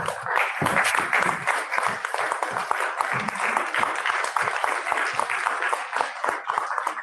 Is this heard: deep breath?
no